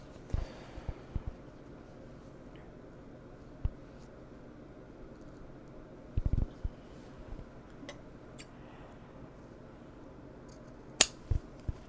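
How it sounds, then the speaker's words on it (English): Scissors snip zipper tape into two pieces, with scattered sharp clicks and short cutting bursts against a quiet room background, including a brief cluster of snips near the middle. "take the zipper tape and cut into 2 equal pieces"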